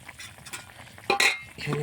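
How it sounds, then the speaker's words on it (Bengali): Meat curry cooking in a covered pot, with the lid lifted partway through: a soft bubbling simmer, then a sharp metallic clatter of the lid and some louder sizzling frying noise near the end. "মাংসটা ঢাকা দিয়ে রেখেছি, একটু আলগা করে দেখি। সুন্দরভাবে ফুটছে।"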